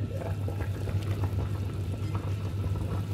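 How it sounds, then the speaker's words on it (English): Water boils in a pot on a stove, a steady close bubbling and rolling simmer with a low hum underneath, heard alone without talk. "So now it's boiling."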